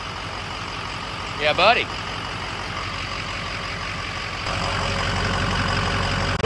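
A truck engine fitted with 6.0 cylinder heads runs at a steady idle, a constant loud low rumble throughout that swells slightly near the end, with a brief spoken exclamation over it early on.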